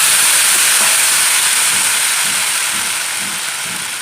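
Washed potatoes hit a hot pan with a loud, broad steady hiss of sizzling that slowly fades over a few seconds, no voices over it.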